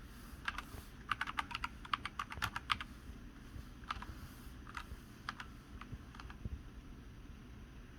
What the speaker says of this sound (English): you type in